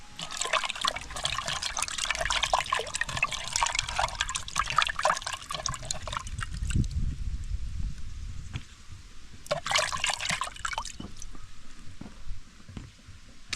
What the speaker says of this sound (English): So next I'm going to wash my tomatoes.